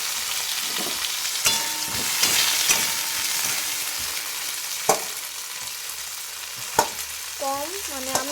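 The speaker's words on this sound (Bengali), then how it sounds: "এটা একটু ভাজা ভাজা হোক" Boiled peas and potatoes sizzle in hot oil with panch phoron, a constant close frying hiss broken by sharp clinks and scrapes of a spatula stirring the pan, with no talking.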